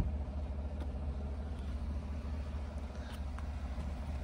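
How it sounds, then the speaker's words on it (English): A stock 2018 GMC Sierra 1500 Elevation two-wheel-drive pickup idling smoothly, a steady low engine rumble holding even throughout with a few faint light clicks, no one talking. "Really smooth idle, completely stock, no modifications."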